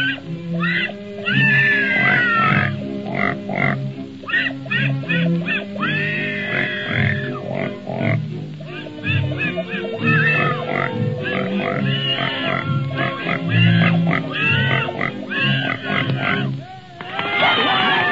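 Cartoon pigs in a Walt Disney Christmas short oink, grunt and squeal in a lively, loud jumble alongside music and brief character voices, with the grunts coming in quick, irregular bursts.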